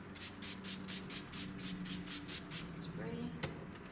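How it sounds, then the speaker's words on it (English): A handheld spray bottle misting water onto a landscape painting, a rapid run of about a dozen sharp, hissy spritzes in an even rhythm, close and clear, with a faint voice near the end. "This is where the spray bottle comes in."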